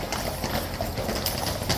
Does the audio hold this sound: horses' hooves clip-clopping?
yes